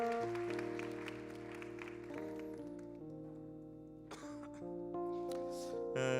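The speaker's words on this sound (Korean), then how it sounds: "우리 좀 따뜻한 박수로 두 분 좀 격려합시다." Warm applause at a church youth service welcomes two visiting guests, a moderate patter of clapping blended under sustained, steady keyboard or organ chords that carry through the whole stretch.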